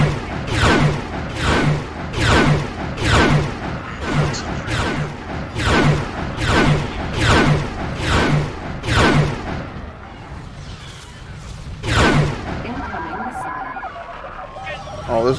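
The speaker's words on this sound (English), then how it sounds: "Getting hit by these torpedoes." Torpedo hits on a ship in a Star Wars mod for the space game X4, with a regular series of about ten heavy booming impacts roughly a second apart, then a pause and a final hit, with some talk underneath.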